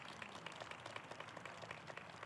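Faint, distant audience applause from a crowd at a climate agreement signing ceremony, steady scattered clapping throughout with no one speaking over it.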